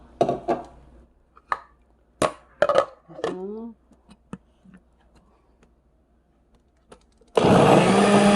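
Scattered clicks and light clatter, then a blender grinding radish with water suddenly roars to life near the end, whirring loudly at close range.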